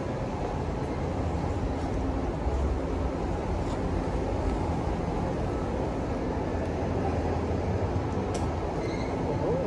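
A metro train passes steadily at a Johor Bahru metro station, a loud continuous rumble and rail roar lasting throughout, with faint high squeals from the wheels and no talk.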